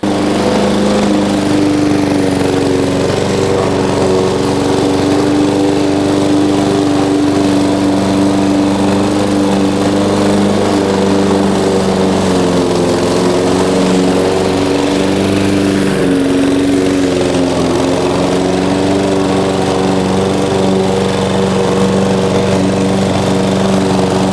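A Vitals Master Zp 51144td petrol lawn mower mulching grass runs at a loud, steady engine drone close by throughout, with its pitch wavering slightly as it works through the cut.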